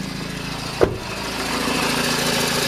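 A Honda car engine idling with a noisy Denso alternator with worn bearings, a steady low hum and rumble throughout, with one brief knock near the start.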